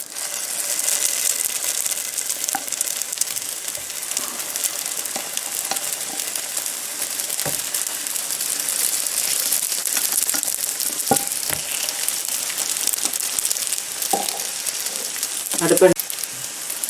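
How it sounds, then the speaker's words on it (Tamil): Oiled, rolled curry roti frying on a hot tawa over medium heat, giving a steady broadband sizzle throughout with a few scraping or handling sounds, close and fairly loud. "ஆயில் பூசிட்டு உருட்டி வச்சிருக்கிற ரொட்டியில் இதில் போடுவோம்."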